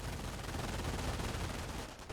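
MG42 machine gun fire in the World War II strategy game Company of Heroes sounds as a faint, continuous rattle of rapid shots, steady throughout before easing slightly near the end.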